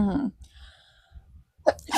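A single sharp human sneeze at close range, followed by a short gap and then a brief voiced sound.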